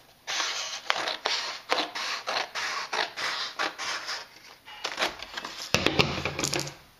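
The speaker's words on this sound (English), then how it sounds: "the first step is going to be to cut off this strip right here" Scissors snip through a strip of paper on a paper rocket template, a run of close, crisp cutting strokes with paper rustling and handling between them.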